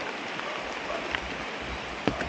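Steady rain hisses evenly, with a few scattered drips and taps standing out now and then.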